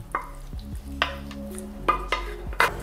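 Roasted butternut squash and vegetables being mixed in a pot with a spoon, giving close, irregular knocks and scrapes against the metal, with a faint sizzle beneath.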